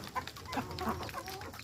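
Several crossbreed chickens, a mix of black and native birds, cluck softly and steadily at close range, their low calls overlapping in a busy farmyard murmur.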